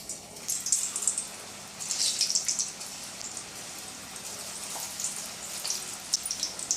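Bitter gourd slices deep-fry in hot oil for bakery-style chips, a steady crackling sizzle with bursts of sharper spattering, close up and with no talk.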